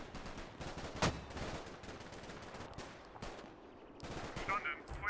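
Distant artillery barrage in the Combat Mission: Red Thunder war game, a string of muffled booms and crackling impacts, one sharper blast early and a busier cluster near the end, over a rumbling battlefield background.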